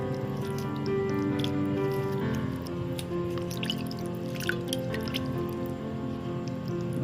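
Water runs and drips over raw chicken pieces being washed by hand in a bowl, with a continuous wet trickle and soft squelching handling sounds.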